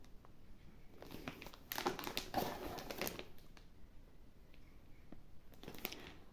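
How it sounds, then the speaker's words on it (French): Plastic and paper packaging crinkles and tears in uneven bursts as a haul of bought items is unpacked, fairly close but quiet, with short pauses between rustles and no talk. "Alors, on va déballer tout ça."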